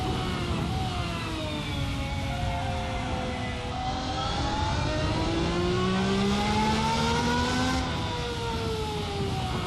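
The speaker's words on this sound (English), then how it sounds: "the sound of the V12 is fantastic." A V12 race car engine roars in a sim racing game, its high pitch climbing and dropping through gear changes in a continuous loud scream with no voices.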